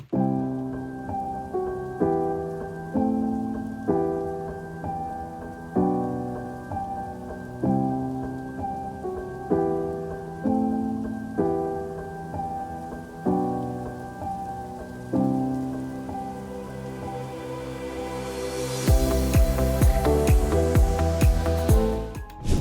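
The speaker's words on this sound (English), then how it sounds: "I just like the sound of rain." Rain sound effect in the intro of a festival remix, a steady patter under soft repeating piano-like chords that swells into a louder, denser wash near the end.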